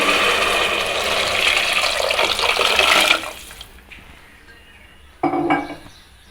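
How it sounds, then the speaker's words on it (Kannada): Water pours steadily and loudly into a cooking pot holding two cups of rice for a moong dal rice dish. The stream stops after about three seconds, and a brief metallic clink follows near the end. "ನಾನು 2 ಲೋಟ ಅಕ್ಕಿ ಎತ್ಕೊಂಡಿರೋದ್ರಿಂದ 4 ಲೋಟ ನೀರು ಹಾಕ್ತಾಯಿದ್ದೀನಿ."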